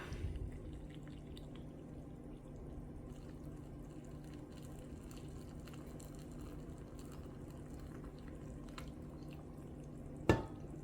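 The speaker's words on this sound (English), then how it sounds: "now we're just going to pour our hot, boiling hot brine over top." Boiling hot brine pours steadily over pepperoncini peppers packed in jars, a soft continuous trickle and splash with a brief knock near the end.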